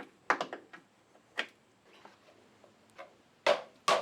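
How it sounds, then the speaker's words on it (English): Plastic clips being popped off an airbox cover on a 2021 Isuzu D-Max: a string of sharp close clicks and snaps, several quick ones early, scattered softer ticks, then two loud pops near the end. "We need to pop these clips and you can take this whole part out."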